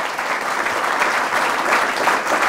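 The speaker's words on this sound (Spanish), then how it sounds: "Fuertes aplausos por Jesús de Nazaret." A church congregation bursts into strong applause during a sermon, with thick, continuous clapping from a large crowd that stays steady for the whole stretch.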